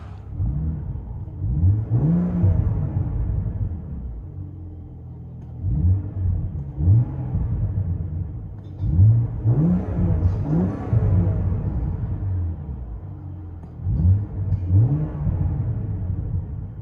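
A 2014 BMW Z4 with a 3.0L inline-six and Vibrant Ultra Quiet resonators, heard from inside the cabin, revs repeatedly in rising, falling surges over a steady low drone.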